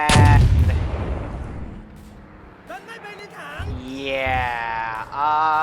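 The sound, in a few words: bombing run explosions in video game Arma 3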